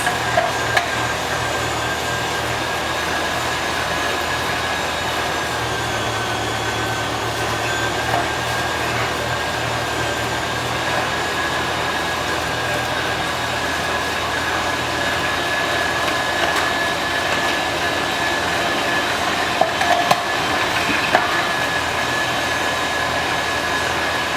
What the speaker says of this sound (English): You hear the motor kind of slow down,